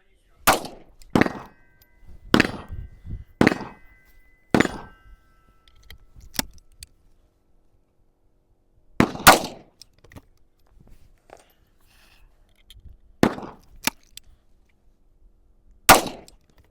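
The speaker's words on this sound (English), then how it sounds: "So pretty much the only thing to do now is go shoot them." A Henry single-shot rifle fires .357 Magnum rounds loaded with H110 powder and Hornady FP-XTP bullets, giving loud, sharp reports outdoors, first a rapid string of shots, then a few spaced ones with quiet gaps between.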